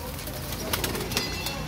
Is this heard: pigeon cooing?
yes